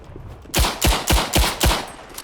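A World War I machine gun nest firing in the video game Tannenberg: five loud, evenly spaced heavy bursts in quick succession, close and punchy, with no talk.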